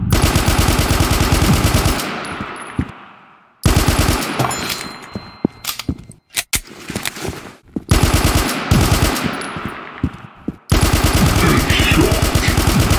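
Sustained automatic gunfire from the mobile shooter game Funny Shooter 2, loud rapid bursts broken by short pauses and scattered single shots, with no talking.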